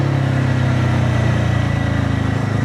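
A new BSA Bantam 350 motorcycle with a liquid-cooled engine rides through the Suffolk countryside near Orford, its steady mid-pitched engine note droning loud and close with no letup.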